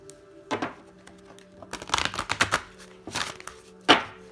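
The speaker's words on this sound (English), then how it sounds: "Let me shuffle the deck" Shuffling a deck of Heal Yourself oracle reading cards: quiet riffling bursts and soft card slaps in irregular clusters, close and faint, with no voices.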